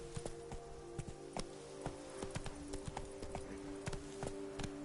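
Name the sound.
hoofbeats of the horse Roach in The Witcher 3 video game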